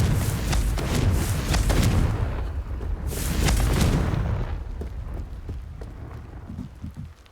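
Repeated Confringo fire-spell blasts in the wizarding game Hogwarts Legacy, loud booming bursts in quick succession with rumbling low end, a second cluster around three seconds, then quieter scattered impacts trailing off.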